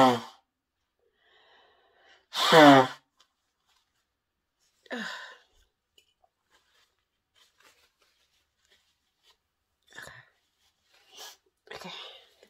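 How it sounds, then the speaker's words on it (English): A person blows their nose hard into a tissue, giving a loud honk. Shorter snorts, sniffs and breaths follow, scattered across otherwise quiet moments, close to the listener. "Just have to clear my nose out nicely first"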